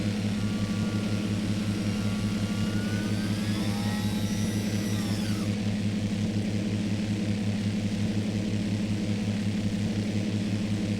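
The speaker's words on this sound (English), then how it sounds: "We're a little light today, so it's going to be a pretty sporty takeoff." A small twin-engine aircraft drones at full takeoff power, a loud steady close engine hum with rising whine and pitch sweeps early on, alone without talk.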